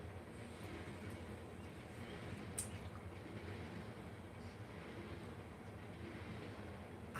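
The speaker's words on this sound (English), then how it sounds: "nobody really hears the train go by my house like this" A very long freight train rolls past a house, a faint, steady distant rumble of wheels and cars continuing without pause, with one brief sharp click partway through.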